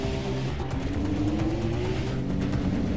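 A car drives in Far Cry 3 on Rook Island, its engine droning steadily and rising slightly in pitch as it accelerates, loud and continuous with no talk.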